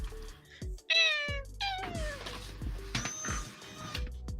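A cat meows close up, several drawn-out, wavering cries in quick succession, loud and clear over faint background noise with no talking.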